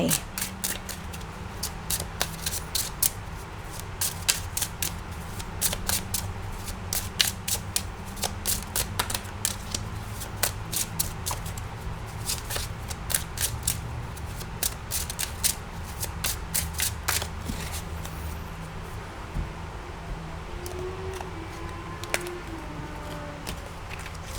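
Tarot cards are shuffled close by in quick, riffling bursts with crisp flicking slaps, repeating for about twenty seconds before slowing. A voice can be heard faintly at times underneath.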